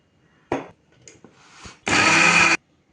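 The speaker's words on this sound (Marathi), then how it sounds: "पाणी घालायचं आणि सरसरीत चटणी वाटून घ्यायची" A mixer grinder whirs in short bursts while grinding coriander chutney with water, first a quick pulse, then a loud, steady grinding run of under a second, with clatter in between.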